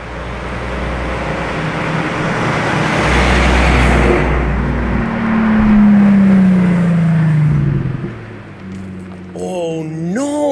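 A Pagani Utopia Roadster supercar drives along a road, its engine droning loudly and rising and falling as it passes close by amid traffic noise, with a voice briefly heard near the end.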